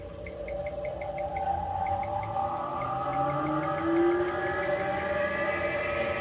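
A treadmill motor drives a vintage Delta-Rockwell 12-inch wood lathe, giving a steady tonal whine that climbs gradually in pitch as the speed rises, with no talking.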